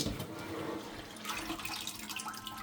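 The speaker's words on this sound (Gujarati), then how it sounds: "કુકરમાં પાણી ભરી દીધું" Tap water runs into a pressure cooker in a home kitchen, a faint continuous splashing flow throughout.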